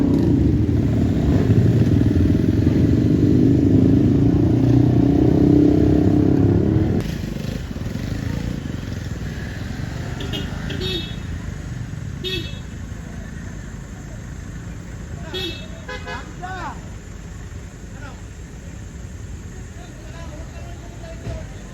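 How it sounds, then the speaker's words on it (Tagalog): Heavy road traffic on the Marilaque highway, with a loud nearby engine rumble for the first seven seconds, then a steadier, quieter wash of passing vehicles and occasional clatter. "Taas na ng traffic oh"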